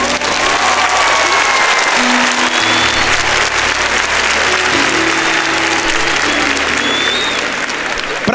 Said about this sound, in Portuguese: eu quero que você dê uma salva de palmas para ele.